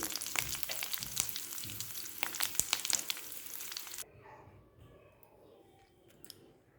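A tempering of spices fries and crackles in hot oil in a small pan, a busy close sizzle with sharp pops for about four seconds before it drops away to quiet, faint clicks.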